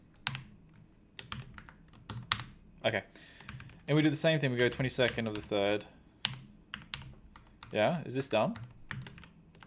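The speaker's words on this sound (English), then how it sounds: "I think my keyboard's busted right now." Rapid clicks and taps of a computer keyboard come in bursts while someone codes an astrology app in SwiftUI, with someone talking intermittently between and over the keystrokes.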